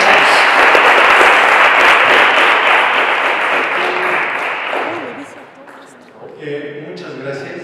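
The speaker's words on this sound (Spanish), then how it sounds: "un aplauso para el maestro" Sustained audience applause for a lecturer at an academic talk on El Santo and Mexican wrestling, dense and loud for about five seconds before fading, followed by a speaker beginning to talk.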